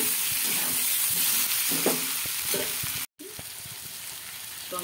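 Boiled potatoes tipped into a hot pan for Kashmiri aloo dum, a loud steady sizzle and hiss with scraping stirs throughout, broken by a split-second dropout before the frying resumes.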